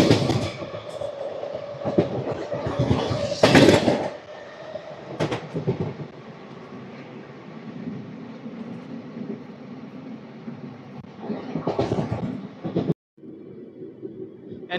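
Guntur-Rayagada Express train 17243 departs Elamanchili station, rolling with rhythmic clickety-clack of wheels over rail joints, louder bursts as carriages pass points, heard from on board.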